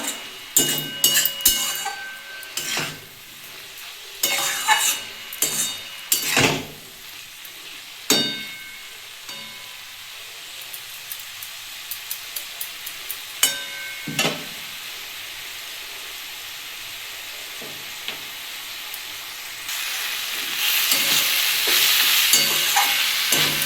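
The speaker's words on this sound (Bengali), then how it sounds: "বন্ধুরা এটা একটু ভালো করে ভেজে নেবো" Water spinach fries in a pan, with loud clattering stirs and scrapes in the first seconds, then a quieter steady sizzle and occasional knocks, the hiss rising again near the end.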